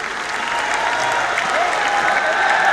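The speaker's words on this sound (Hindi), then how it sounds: "आइए जोरदार तालियों से हम आमंत्रित करें आदरणीय श्री मोहन जी भागवत को।" A hall full of people at an organ donor family honor ceremony in Surat bursts into loud, sustained applause, a dense continuous wash of clapping that holds steady and swells slightly toward the end.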